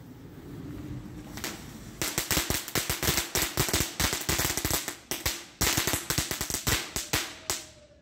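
A rapid string of sharp firecracker bangs from thrown bangers crackles on and off for several seconds, loud and close, with a few isolated pops before the barrage.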